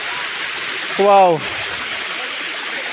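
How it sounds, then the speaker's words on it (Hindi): A cold waterfall at Chakrasila Wildlife Sanctuary makes a steady, full rush of falling water throughout, with a brief exclamation from a voice partway through. "इसको बोलता है सक्रसिला वाइल्ड लाइफ सेंचुरी का वाटरफॉल, बहुत ठंडा है।"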